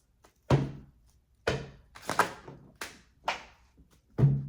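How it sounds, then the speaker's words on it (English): A series of about five heavy thuds in irregular succession, each with a sharp low attack and a short decay, like a door being slammed shut repeatedly nearby; no talking. "Storm off and slam the door shut?"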